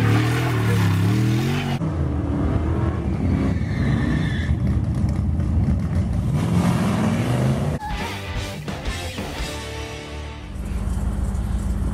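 A 1979 Dodge Magnum with a 440 big-block Mopar V8 runs close by, a steady loud engine drone with shifting pitch and a brief dip in level before it picks back up.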